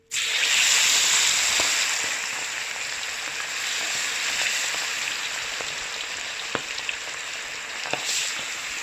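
Fish sizzles and spits in hot oil with garlic, curry leaves and ginger for a Kerala fish stew: a loud, steady frying hiss from the first moment, easing slightly, with a few sharp pops near the end.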